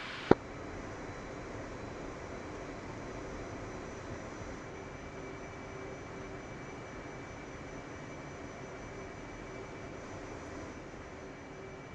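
An F-18's jet engines in the DCS flight game give a steady, even whine and roar as the jet taxis on the north ramp, with one sharp click at the start and no talking.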